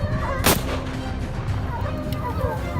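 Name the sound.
gunfire during a wild boar hunt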